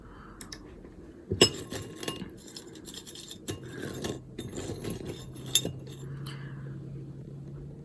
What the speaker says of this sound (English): I'm eating animal crackers with a spoon.